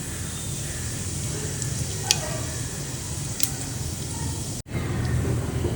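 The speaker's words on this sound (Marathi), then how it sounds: "मसाले आता 1 मिनिटे परतून घेतलेले आहेत." Whole spices sizzle in oil in a pressure cooker pan: cinnamon pieces, green cardamom, black pepper, cloves and shahi jeera. The frying is steady and close, with a few light ticks and clinks from stirring.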